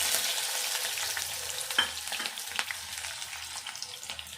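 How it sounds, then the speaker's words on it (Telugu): Chopped onions frying in hot tempering oil for a bottle gourd curry, a steady close sizzle with a few soft stirring clicks, no voices. "తాలింపు వేగినాక ఉల్లిపాయలు వేసుకోవాలి."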